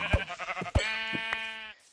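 A Minecraft sheep bleats in a wavering, buzzy call, close and clear, with a few sharp game hit or click sounds just before it.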